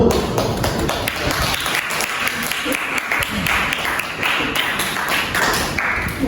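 A classroom audience applauding a group's presentation, loud sustained clapping with scattered thumps and a murmur of voices underneath.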